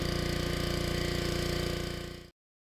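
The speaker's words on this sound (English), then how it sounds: "A quick shot with the pressure washer will remove all the oil preservatives." A pressure washer sprays a freshly welded steel propane tank holder to strip oil preservatives, a steady loud hissing drone with a motor hum underneath that runs continuously for about two seconds and then cuts off abruptly.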